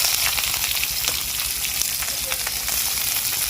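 Chopped onion frying in hot mustard oil with dried red chillies, a bay leaf and five-spice, a dense close crackling sizzle running steadily throughout.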